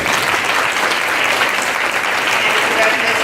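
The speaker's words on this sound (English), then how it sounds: "Let's give you a round of applause" A room at a North Ridgeville City Schools board meeting breaks into sustained applause for a seventh-grade student, steady dense clapping from a seated audience that holds throughout.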